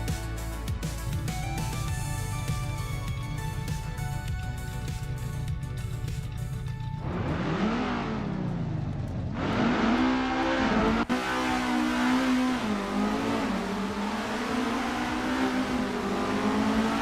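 Race cars in an AI racing video game, including a sleek newer Avia F87, engines revving hard and climbing through gear changes in rising and falling sweeps, loud and continuous, heard alone without voices.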